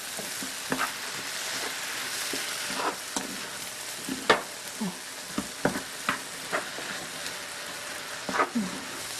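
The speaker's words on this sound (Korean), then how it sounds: "이렇게 볶아서 좀 놔주시고요." Tomatoes with pepper sizzle and fry in a pan while a utensil stirs them, a steady close crackle broken by sharp scraping clicks and taps at irregular intervals.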